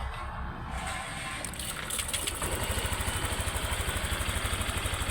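A Honda Click 125 scooter engine, just started after clearing a check-engine error, idles close by with a steady, rapid pulsing rhythm that settles in after the first couple of seconds.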